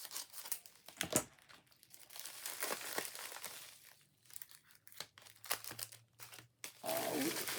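Small plastic AliExpress packages being opened by hand, irregular close crinkling and tearing of plastic wrap in bursts, with quieter pauses between handlings.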